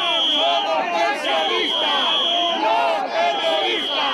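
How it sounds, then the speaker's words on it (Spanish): A crowd of protesting pensioners outside the Spanish Congress shouts and boos loudly in rhythmic, overlapping bursts, chanting voices rising and falling close by with a constant whistle-like tone above them. "Entre gritos, ¡ladrones!, abucheos,"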